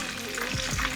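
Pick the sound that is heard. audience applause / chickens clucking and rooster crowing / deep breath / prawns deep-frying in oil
prawns deep-frying in oil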